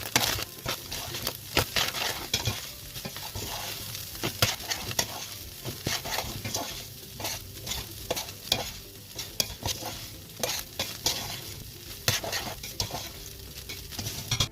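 Mince and mixed masala being stirred in a pot for samosa filling. Steady, close scraping strokes repeat rhythmically over a continuous sizzle for the whole stretch, with occasional clinks of a utensil against the pot.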